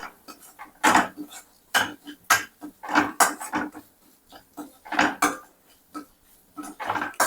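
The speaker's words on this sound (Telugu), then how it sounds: "ఇది ఒకసారి ఇలా బాగా కలిపేసుకుందాము." Mushroom and cashew curry being stirred with spices in a pan, a spoon scraping and knocking against the metal in a steady series of sharp clatters with short pauses between strokes.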